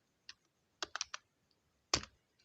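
Keys clacking on a computer keyboard in short irregular bursts, several quick taps grouped together with quiet pauses between, close and fairly crisp, no speech.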